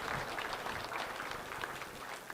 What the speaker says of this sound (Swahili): Tumpatie makofi mazuri kushinda haya